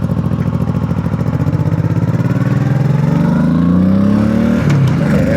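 Honda Shadow 1100 motorcycle accelerating hard during a top-speed run, its engine droning loud and steady while the pitch climbs smoothly before a brief dip as it shifts gear, with no voices.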